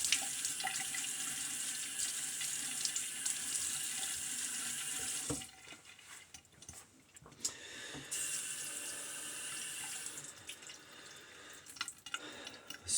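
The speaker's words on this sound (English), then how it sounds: "I'm going to get my face wet and get some lather going." Tap water running steadily into a sink as a man wets his face before shaving, near and hissing, with a break in the flow midway and splashing of hands before it resumes.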